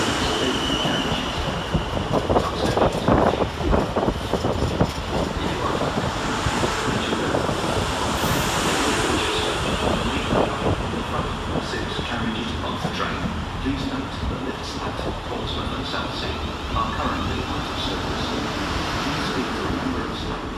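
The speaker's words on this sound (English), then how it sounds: "Arriving next into the station, we'll see 450112 and 450070 with the 1403 South Western Railway service from London Waterloo" South Western Railway class 450 units 450112 and 450070 pull into Basingstoke station on a London Waterloo to Portsmouth Harbour service, with a steady broad rumble, rattling wheels and a brief high squeal, loud and close throughout.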